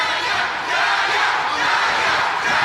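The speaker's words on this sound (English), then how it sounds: "You hear the crowd now starting to scream out Yaya." A dense fight crowd at a Fury FC mixed martial arts event in New Orleans screams and chants loudly and continuously, rising in waves.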